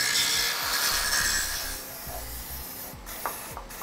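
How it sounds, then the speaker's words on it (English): Metal cup being ground flat on a trailer frame during an Air Lift LoadLifter 5000 air helper spring install on a 2009 vehicle, a steady raspy abrasive rubbing with repeated strokes, close and continuous without talk. "We'll go ahead and grind this down flat so it's nice and smooth for a bracket to fit up against."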